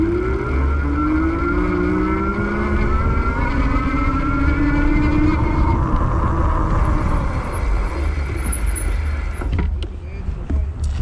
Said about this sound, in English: I'm gonna use the throttle this time so you can hear that, and I'm gonna twist it all the way, so full power